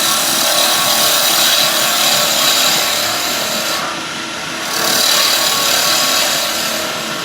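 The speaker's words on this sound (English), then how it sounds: "So I'm just turning down to the bushing." Wood lathe turning a stabilised pen blank down to the bushing, a loud, continuous broadband hiss of tool cutting that eases briefly midway, then resumes at full strength.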